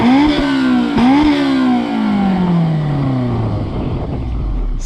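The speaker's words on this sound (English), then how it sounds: "Oh, you gotta hear the exhaust from behind." A 2001 Honda S2000 AP1 sports car exhaust revs hard from behind, rising and falling in sharp bursts before settling into a loud, steady drone, with no talk over it.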